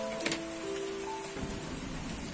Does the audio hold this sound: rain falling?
yes